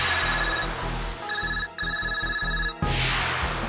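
A mobile phone ringtone rings loudly and near in repeated electronic bursts, cutting off briefly between phrases, with no talk over it.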